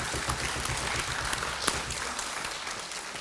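An audience at a children's composition recital claps in a dense, steady burst of applause, with a few individual claps standing out.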